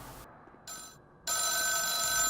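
Telephone ringing in the horror game The Town of Light, an electronic bell tone that starts in short bursts separated by silent gaps, then rings steadily and loudly to the end, with no talk over it.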